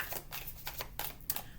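Cards from a deck of emotion oracle cards being shuffled by hand in short riffling bursts, several quick swishes close up with no talking.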